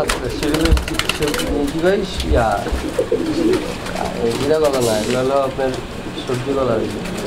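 Sabuj Gola Giribaz pigeons coo in repeated soft warbling phrases while people talk nearby, partly covering the birds.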